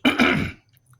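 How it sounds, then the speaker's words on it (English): A short, harsh cough burst from a nearby person, a couple of rough hacks in under a second, then quiet. "I'm sorry about the coughing."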